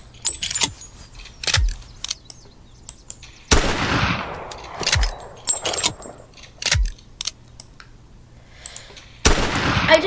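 Old-fashioned firearm from a game mod firing single shots, several sharp cracks spaced seconds apart, each with a ringing decaying tail, fairly loud with quiet gaps between.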